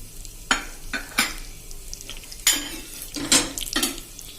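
Cinnamon, cloves, peppercorns, a chili, mustard seeds and cumin crackle in hot oil, with sharp bursts of popping and spoon scrapes against the pot over a low sizzle, close and fairly loud.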